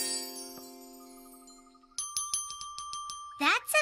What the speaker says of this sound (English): That's a nice little bell.